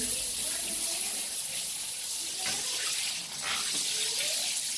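A Flexispray Bermuda II hand shower runs at full flow, a steady broad hiss and splash of water pouring down continuously, close and fairly loud, with a brief dip near the end.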